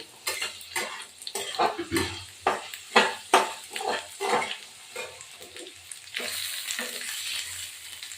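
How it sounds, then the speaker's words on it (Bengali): Potatoes and figs sizzle in a hot pan while a utensil scrapes and stirs in repeated strokes, followed by a steady frying hiss. "এটা আলুটা ভাজা হয়ে যাবে এর মধ্যে ডুমুরটাও দিয়ে দেবো"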